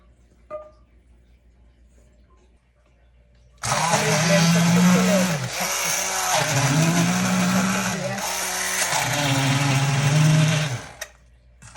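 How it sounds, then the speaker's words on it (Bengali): A hand blender whirs loudly and steadily as it purées fried green banana with other ingredients, its motor pitch sagging and recovering several times under load before cutting off; a quiet start precedes it. "হ্যান্ড ব্লেন্ডারে ব্লেন্ড করবো এগুলি সবগুলো উপকরণ"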